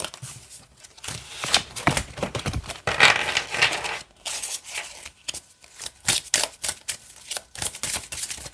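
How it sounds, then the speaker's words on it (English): A deck of oracle cards is shuffled repeatedly in quick riffling bursts with short pauses between, close up and crisp. "So it's nice to shuffle them."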